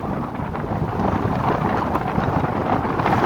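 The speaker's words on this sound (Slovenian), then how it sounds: "Še zmeraj piha, zmeren severnik" A moderate north wind buffets the microphone while cycling along a narrow path between meadows and orchards, giving a steady, loud broadband rush with no speech.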